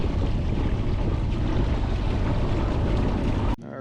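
Steady, strong wind buffets the microphone out on Lake of the Ozarks while spring crappie fishing, a dense continuous roar that cuts off abruptly near the end.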